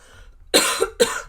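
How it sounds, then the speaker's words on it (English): Two sharp, close coughs in quick succession, the first followed by a short rasp, after a moment of near silence. "I don't know why I got a cough, but I do"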